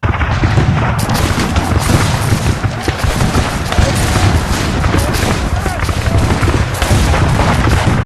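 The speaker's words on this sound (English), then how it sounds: "They open fire on Butterfield's men from seemingly everywhere." Dense, continuous musket volleys and scattered booms from an August 1862 Civil War battle at Bull Run, loud and unbroken for the whole stretch, with faint voices mixed into the din.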